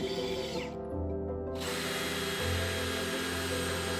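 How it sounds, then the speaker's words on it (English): A power drill bores holes into a drywall wall while mounting a smart home control panel. It gives a steady, close, continuous whine with a slight change in pitch partway through, and no one speaks. "we'll drill into the wall and try to mount this as straight as possible"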